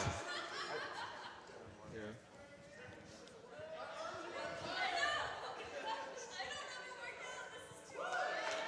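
Live audience at a Summer Games Done Quick 2018 speedrun event of Ninja Gaiden Black, a steady murmur of crowd chatter with bursts of laughter and excited voices, loud and close throughout, with people talking over it.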